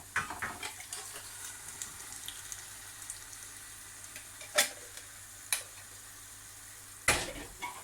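A tin of tomatoes goes into a hot frying pan of onions for cannelloni sauce, giving a soft, steady sizzle broken by a few sharp splashes and clanks.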